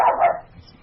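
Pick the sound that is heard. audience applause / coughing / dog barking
dog barking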